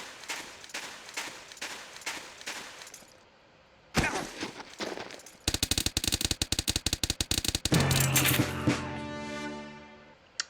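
MP5 submachine gun in Soldier of Fortune II Unreal Edition, first fired as a string of separate sharp shots, then in rapid automatic bursts. The bursts end in a long continuous rattle with a ringing metallic tail, all loud and dry.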